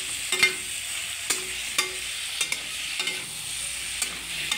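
Masala gravy for a Nepali dish being stirred in a pan, a spoon scraping and knocking against the metal in repeated irregular strokes over a soft low sizzle, close by and without speech.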